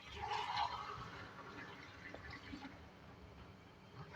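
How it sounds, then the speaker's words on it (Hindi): Water pours into a pot of fried beef with a brief, bright splashing gush at the start, then a quieter liquid wash and faint bubbling. "इसमें 2 गिलास पानी ऐड करेंगे"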